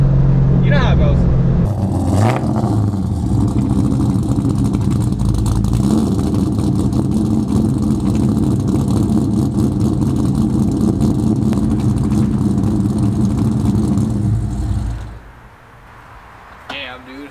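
A V8-swapped Honda car drives along the road, its engine holding a steady loud drone with a brief rev near the start, then dropping off sharply toward the end.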